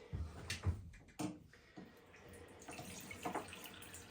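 Cold tap water runs and splashes as a dirty Shark cordless upright vacuum cleaner filter is rinsed in a sink, with irregular close knocks and gushes as the part is handled.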